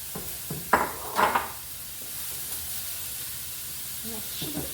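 Onions, peppers and green onions drop into hot oil in a pan, giving a few sharp sizzling bursts up close, then a quieter steady hiss, with no talk over it.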